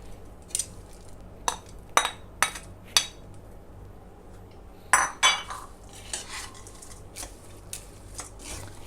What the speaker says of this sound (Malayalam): നല്ലതായിട്ട് മിക്സ് ചെയ്യുക